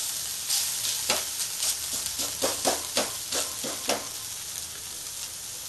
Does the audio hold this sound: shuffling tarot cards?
no